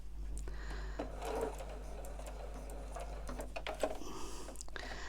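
A sewing machine stitches along a printed Christmas stocking panel in white thread, its needle ticking in short rapid bursts with brief pauses, faint and close against a low background hum.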